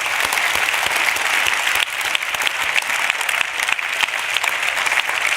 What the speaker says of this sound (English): So if I could ask you for a final round of applause for all these.